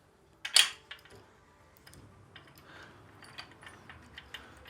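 Ratcheting and clicking of a wrench tightening bolts and nuts on an OUTFITR Hybrid 2+2 bike rack, one sharp metallic burst followed by lighter scattered ticks, close and alone.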